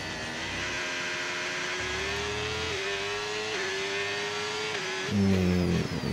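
Race car engine in a racing video game, lapping a circuit in Hungary, holds a steady high whine that dips and climbs through gear changes, with a louder rev surge near the end.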